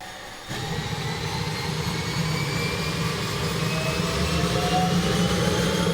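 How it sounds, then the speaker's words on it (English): A small passenger plane carrying nine people takes off from Bloodvein First Nation, its engine roar rising suddenly after a brief quiet start and then holding loud and steady close by. "This plane is taking off from Bloodvein First Nation with 9 passengers on board."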